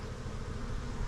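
Honey bees and drones buzz in a dense, continuous low drone around an open hive during fall colony splitting in West Texas, steady and close throughout with no talking.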